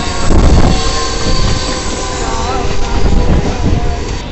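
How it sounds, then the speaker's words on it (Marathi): Trains arriving and departing at Chhatrapati Shivaji Maharaj Terminus in Mumbai, a steady loud rumble of railcars with squealing wheels and station bustle, with faint voices in the background. "कशा ट्रेन येत आहेत जात आहेत."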